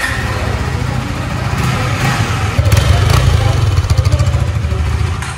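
A new KTM Duke 390 BS6 motorcycle engine runs steadily close by, a continuous low, throbbing hum that swells slightly midway before easing off.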